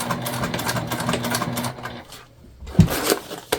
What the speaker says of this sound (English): We are back stitching